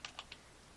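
Three quick, crisp keystrokes on a computer keyboard, close and fairly quiet, with no talking.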